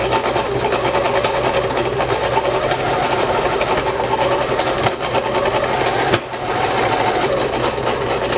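A sewing machine runs steadily and continuously, a dense mechanical whir of stitching with a brief hitch near the end before it resumes; the machine is then breaking down.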